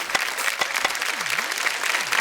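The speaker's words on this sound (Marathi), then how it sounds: "जोरदार टाळ्या होऊन जाऊ दे" Studio audience on a Marathi women's game show clapping, a near, steady burst of applause, with brief talk mixed in.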